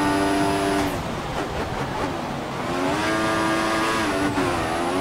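Formula 1 cars in the racing game F1 2014 at Spa, with loud, continuous engine whine rising and falling through gear changes as several cars pass close by, with no talking.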